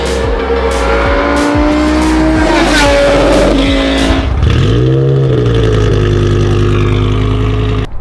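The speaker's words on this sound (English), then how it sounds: "V10, ITB, all 10 cylinders, ripping." A loud race-style V10 engine with individual throttle bodies, swapped into a BMW E46 M3, revs hard, climbing in pitch through rapid shifts, then drops and settles into a high steady roar, very close.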